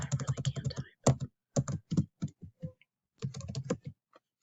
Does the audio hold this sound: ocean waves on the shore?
no